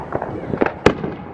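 Home fireworks go off on the Fourth of July in an American neighborhood: quick crackling pops followed by one sharp, loud bang, all within a second and a half.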